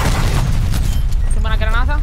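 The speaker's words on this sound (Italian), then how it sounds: "Sembra una granata." Grenade blast in Call of Duty Black Ops Cold War, a deep booming explosion with rumbling low end, followed by game sounds and a voice talking over the end.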